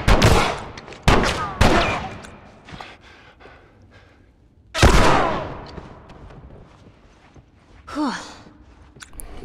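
Loud gunfire from the video game The Last of Us cracks out in scattered bursts with echoing tails, and a short vocal sound follows near the end.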